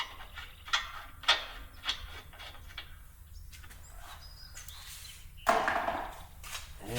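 A nut being removed from a Honda Odyssey A-arm with hand tools, several sharp metallic clicks and taps of a ratchet, then a louder scraping, rattling burst near the end, close by.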